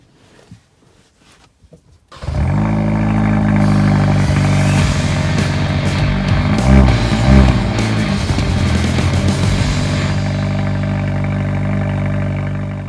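A turbocharged 2020 Kia Forte GT starts up after a quiet moment, then its engine hums loudly and steadily from inside the car, swelling briefly as it accelerates before easing slightly toward the end.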